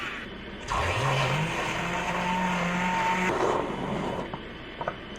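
A small electric milk frother motor whirs up quickly in a cup of tea, holds a steady high whine for a few seconds, then stops, followed by faint clicks.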